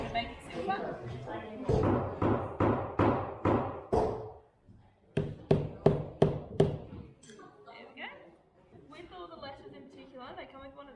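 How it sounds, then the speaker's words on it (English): Sharp hammer blows on a metal stamping tool set over a keyring, two quick bursts of roughly five and four evenly spaced strikes close up, followed by quieter handling and faint talk. "place it over the top, use the hammer, hit it a couple of times, and make it silver"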